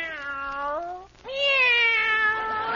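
Cats meowing inside a cage during an old radio comedy broadcast; two drawn-out, close meows sound one after the other, clear and alone with no talking.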